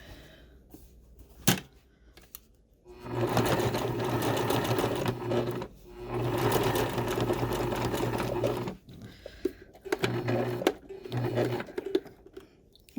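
A sewing machine stitches a patch onto ripped jeans, running in several loud bursts of rapid stitching separated by short pauses for pivoting, with light handling clicks in between.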